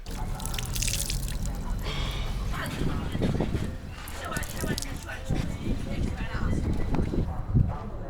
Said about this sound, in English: Here is our shower